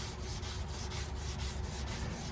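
A Scotch-Brite pad with white vinegar scrubs metal during floor pan repair on a 1989 Mustang, making quick, rhythmic rubbing strokes, about four per second, close and soft, with no talk.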